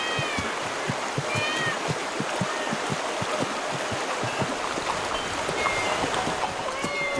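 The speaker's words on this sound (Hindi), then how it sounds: "ये इतनी सारी बिल्लियां यहाँ क्या कर रही हैं?" Many cats meow at once in a crowded city setting, overlapping calls scattered through a steady dense background noise with faint rhythmic thuds, loud and continuous throughout.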